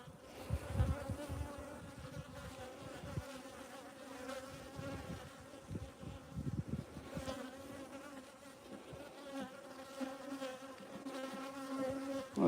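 Honeybees buzz steadily around an opened hive during a midwinter inspection five days before Christmas, a dense, continuous hum close by with fluctuating intensity and no speech.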